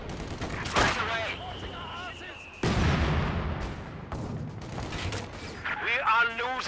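A German Granatwerfer mortar firing in Company of Heroes 2, two sharp heavy reports a couple of seconds apart amid battlefield noise, with voices speaking over the action.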